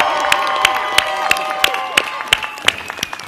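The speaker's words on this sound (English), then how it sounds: "I want us all to give a rousing round of applause to the birthday boy, Attorney General Eric Schneiderman" A crowd claps and cheers at a midnight New Year's swearing-in ceremony for a mayor, with sharp recurring claps over a bright tonal backdrop, sustained and fairly loud.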